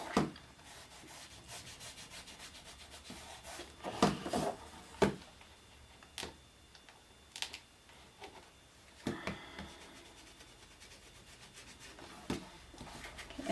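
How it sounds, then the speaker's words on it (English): Soft rubbing of a gold finish onto the corners of a canvas, quiet scratchy strokes in uneven bursts, close and alone with no talk. "I always just rub it on the corners here, like I said, just to kind of bring that up onto the canvas"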